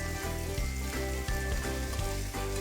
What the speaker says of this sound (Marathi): पलटी मारून फ्राय करून घेऊ